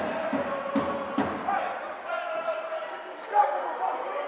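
Bassano supporters roar warmly and noisily through a hockey match against Trissino, a steady crowd din with scattered thuds and shouts under a voice talking over it.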